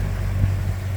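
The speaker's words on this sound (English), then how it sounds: "You can hear the motor running because we don't quite have enough wind" Continuous low droning hum of a sailboat's motor under steady wind and water wash, the boat motoring along in light wind without voices.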